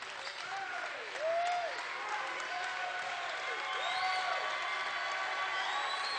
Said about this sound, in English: Lutheran fans up clapping for their team